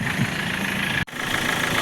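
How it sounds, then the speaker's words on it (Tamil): A 2007 Hyundai Verna diesel engine idles steadily at close range, a continuous mid-pitched rumble with a faint even rhythm, broken by a very brief dropout. "வண்டி இப்போ ஸ்டார்டிங்கில் இருக்குங்கண்ணா"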